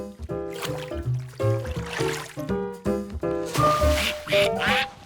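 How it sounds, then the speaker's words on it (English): Several ducks quack repeatedly nearby in a lively, overlapping chatter, the calls coming in quick irregular bursts. "Ducks!"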